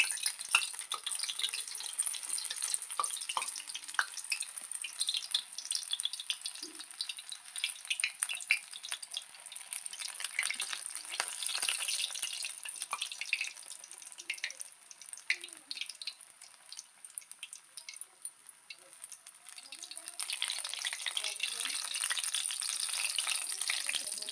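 Bottle gourd leaf pakoras fry in oil in a wok, giving an uneven crackling sizzle with sharp pops and spits that rise and fall over a long stretch, with no talking.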